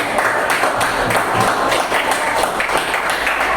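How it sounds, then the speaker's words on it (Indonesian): A classroom of students applauding, dense steady clapping throughout that cuts off abruptly at the end. "kita beri tepuk tangan dulu"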